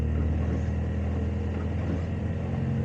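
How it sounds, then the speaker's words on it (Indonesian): A car engine revs higher close by with a steady, low droning rumble and a constant buzzy hum, no voices over it. "Dan suara mesin semakin tinggi."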